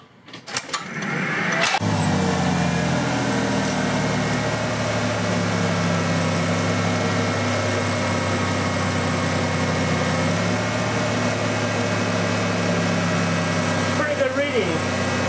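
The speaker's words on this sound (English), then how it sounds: "I'm going to turn on the vehicle." A car engine cranks and catches after a brief starter whir, then settles into a steady, moderately loud idle that continues close by with no talk.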